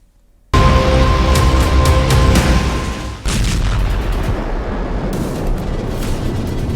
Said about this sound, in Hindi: रात 1 बजे के बाद वेनेजुएला में धमाके शुरू हुए।